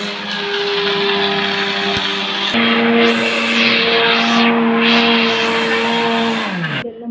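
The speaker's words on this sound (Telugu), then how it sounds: "పప్పులు ఒక 4 ఇలాచి కూడా వేసేసి బాగా మిక్సీ అయితే పట్టేస్తున్నాము" A kitchen mixer grinder grinds lentils with four cardamom pods, its loud, steady motor whine shifting pitch partway through before winding down at the end.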